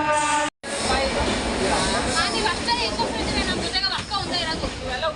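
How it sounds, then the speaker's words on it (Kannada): A moving train rumbles steadily, heard from a window seat with rushing wind, a loud continuous roar broken by one brief dropout near the start, while voices talk throughout. "ನಾನು ಕಿಟಕಿ ಪಕ್ಕ ಕೂತ್ಕೊಂಡು ಆ ಟ್ರೈನ್ ಸೌಂಡು, ಗಾಳಿ ಸೌಂಡು"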